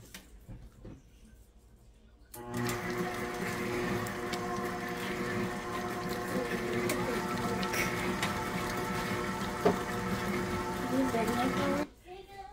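Peppermint cookie dough with vanilla is mixed in a steady, continuous mechanical whir that starts abruptly, runs for about nine seconds at an even level and then cuts off.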